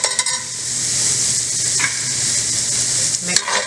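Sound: jalapenos and garlic sautéing in a pan

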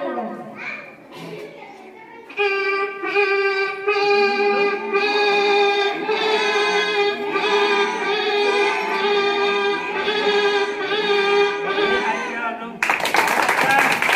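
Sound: child imitating a goat bleating

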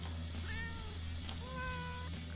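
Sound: cat meowing in the video game Kitten Rampage

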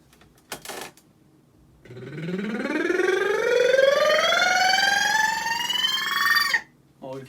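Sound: lip trill vocal exercise rising in pitch

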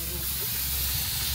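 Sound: overheated Opel Manta GSI radiator boiling and hissing

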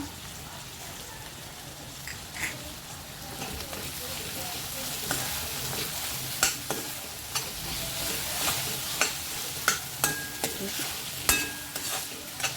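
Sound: tomato and ginger-garlic paste frying with potatoes for khichdi

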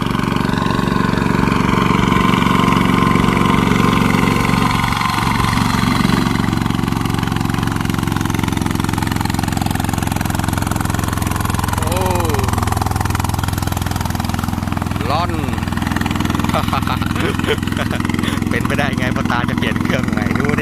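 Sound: father-in-law's farm machine engine running

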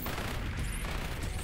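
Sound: sentry gun firing in the video game Repetendium

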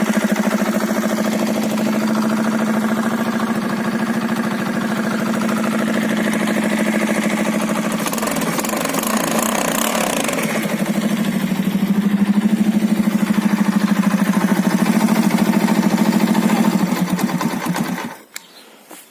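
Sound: Alfa moped engine running after engine replacement

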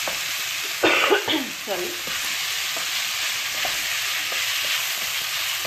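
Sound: stirring paneer bhurji (cottage cheese) in a pan

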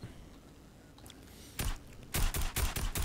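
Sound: gunshots fired from afar in Fortnite video game

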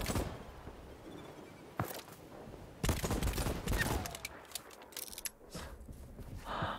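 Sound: gunfire in the video game Voidtrain

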